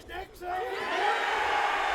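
A wrestling crowd at a Juggalo Championship Wrestling show cheers and whoops in a steady, fairly distant roar, with an announcer's voice talking over it.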